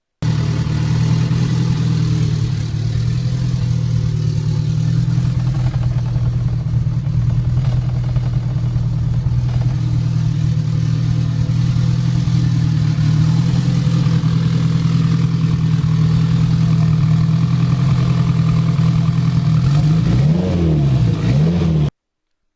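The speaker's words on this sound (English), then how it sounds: "the car is ready to turn on." A turbocharged Honda CRX engine drones at a loud, steady idle close by for a long stretch, then its revs rise and fall in a few blips near the end.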